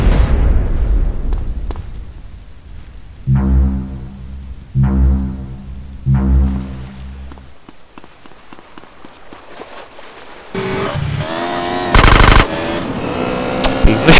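Gunfire in the San Andreas Multiplayer video game: three loud bursts of rapid automatic fire, then a quieter stretch and a harsh, noisy blast of game sound near the end.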